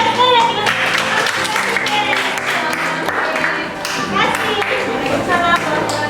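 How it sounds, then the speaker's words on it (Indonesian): A classroom audience of teachers claps together after a group presentation, steady dense applause filling the room with voices mixed in. "Tepuk tangan lagi ya, sekali lagi"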